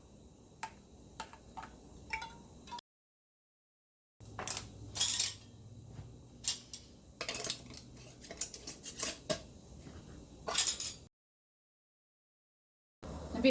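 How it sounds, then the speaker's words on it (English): Metal canning jar lids clink and tick as they are plucked out with a magnetic lid lifter, with sharp, irregular light taps and scrapes close by, separated by brief silent gaps. "I'll use my magnetic lid lifter."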